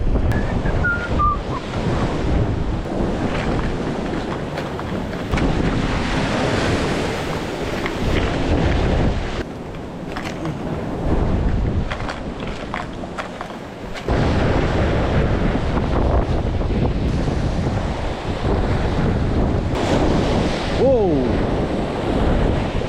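Rough sea surf rolling onto a rocky Italian shore as a storm swell builds, a continuous loud wash of breaking waves with heavy wind buffeting the microphone and brief lulls between surges.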